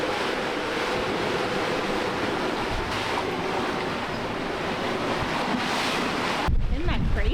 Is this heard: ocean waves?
yes